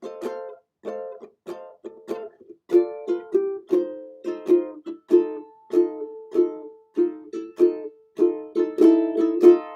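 A ukulele is strummed quickly in a bouncy, uneven rhythm of short chords, close and clear with no voice.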